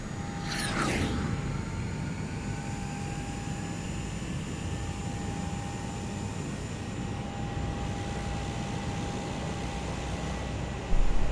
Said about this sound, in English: So let's get our little Cessna here turned around.